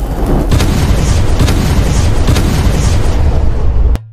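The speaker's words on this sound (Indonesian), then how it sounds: "meriam pun kemudian ditembakkan." A cannon fires in the film Rise of Empires: Ottoman, about the Ottoman siege of Constantinople, a loud sustained booming blast with rumbling debris that cuts off abruptly.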